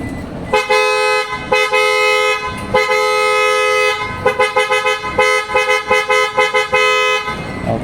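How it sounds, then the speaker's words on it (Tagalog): Loud aftermarket PIAA-style horns on a Toyota Innova, two pairs, blare in long sustained blasts, then switch to a rapid series of short staccato honks, close and harsh. "Ang i-test natin yung horn."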